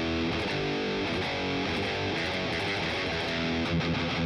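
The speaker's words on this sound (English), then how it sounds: "Okay, overdrive." Electric guitar played through a Boss Katana MK-II amp on its overdrive setting, a steady sustained crunchy tone with ringing chords held throughout at even loudness, no voices.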